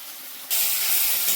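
Khosla paste fritters (bora) drop into hot oil in a pan; after a quiet moment a sudden loud, steady hiss of frying bursts up and holds, close and alone.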